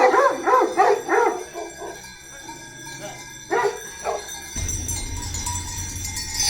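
Sheepdogs bark in a quick run of yips among sheep outdoors, followed by a couple more barks, then steady low rumbling background noise.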